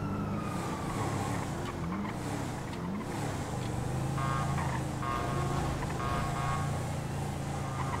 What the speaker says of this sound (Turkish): Arkadaşlar tüm sirenleri kapatsın.